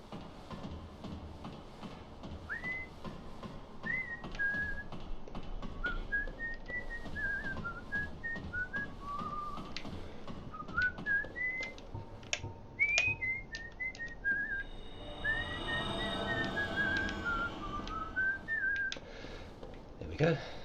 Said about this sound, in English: A little bit of freestyle whistling there.